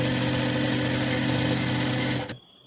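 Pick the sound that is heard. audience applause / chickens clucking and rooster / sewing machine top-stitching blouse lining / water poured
sewing machine top-stitching blouse lining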